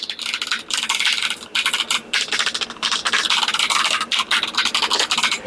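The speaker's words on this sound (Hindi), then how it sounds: "ये एक मैकेनिकल कीबोर्ड है MK1200।" Rapid, clacky typing on a 60% mechanical keyboard, the MK1200, close and loud, with bursts of keystrokes broken by short pauses.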